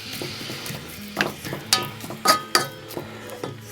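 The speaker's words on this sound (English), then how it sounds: "I've cut up my beef rump steak. And we're just going to get this browned and caramelised." Pieces of beef rump steak brown in a pan, a soft continuous sizzle punctuated by several sharp clinks and scrapes of a utensil against the pan, close and without talking.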